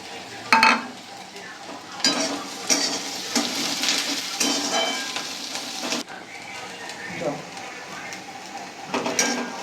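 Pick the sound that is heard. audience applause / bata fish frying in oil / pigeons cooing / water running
bata fish frying in oil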